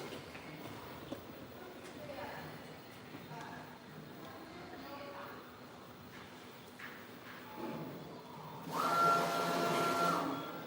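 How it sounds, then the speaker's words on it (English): A wall printer machine running, with a soft mechanical whir and shifting motor tones, then a louder sustained whine near the end; voices murmur faintly underneath. "you can see the printing machine is go on printing right now"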